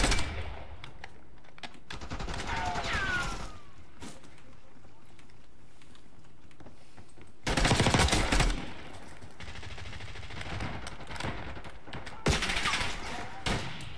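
Rapid bursts of gunfire from the video game Call of Duty: Black Ops 6 come in loud clusters over a steady background, with keyboard clatter and a voice speaking in between.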